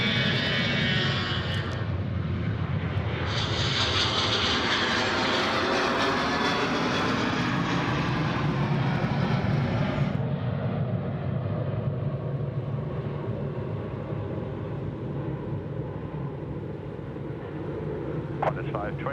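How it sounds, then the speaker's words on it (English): Boeing 737 jet passing overhead at Sydney Airport, a loud sustained roar that swells and then eases into a lower rumble as it moves away, with people talking nearby and radio chatter. "caution wake turbulence 737 passing overhead"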